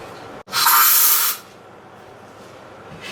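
A can of Air Wick air freshener sprays in one steady, loud hiss lasting about a second, ending abruptly and leaving faint room noise behind.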